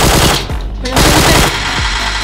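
Gunfire in PUBG, loud rapid bursts of automatic shots that crackle close by in quick runs, with short gaps between volleys.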